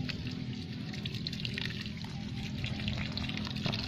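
Water pours steadily and continuously onto a potted water apple plant, a close, even splashing stream with no voices.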